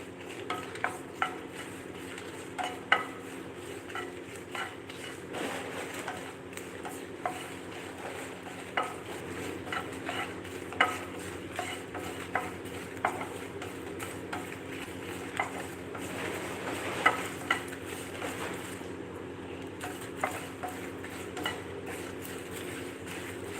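Curry leaves roasting and being stirred in a pan for sesame powder, heard as a soft continuous sizzle with repeated light scraping and clinks of a spoon against the pan.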